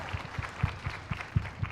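Rhythmic clapping at a high school choir concert, evenly spaced beats about four per second, fairly close and moderate in level with a faint crowd murmur behind.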